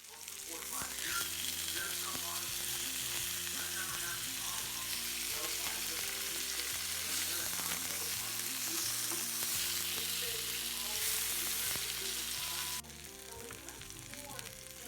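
Emperor fish shallow-frying in a pan after a flip, a dense continuous sizzle holding steady throughout, with a soft hum beneath and a slight drop in level near the end.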